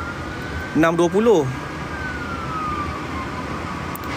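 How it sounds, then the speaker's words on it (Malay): An emergency vehicle siren wails briefly in rising and falling sweeps on a jammed highway, fairly faint against steady traffic rumble, then a fainter tone drifts on. "Ada dengar bunyi siren."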